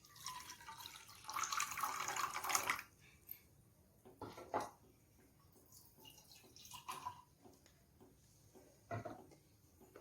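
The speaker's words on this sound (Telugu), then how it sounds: "ప్యాన్ పెట్టుకొని ఇందులో 1 కప్ వాటర్ వేస్తాను" Water poured from a cup into a cooking pan while preparing stuffed mango filling, a close, steady splashing pour for a couple of seconds, followed by quieter clinks and small drips.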